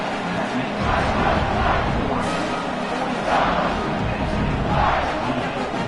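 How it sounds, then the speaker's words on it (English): A packed stadium crowd in a college football video game, Penn State at Oregon, roars steadily before a kickoff, a dense continuous wash of cheering with swells, heard alone at moderate loudness. "this crowd now ready to get behind them"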